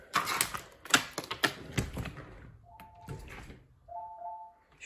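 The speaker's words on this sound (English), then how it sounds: "it can mimic the door noises, like the door like chimes." A Ring security keypad clicks out a rapid run of sharp button presses, then an Echo Dot sounds two short electronic door-chime tones, the second slightly longer, all close in a quiet room.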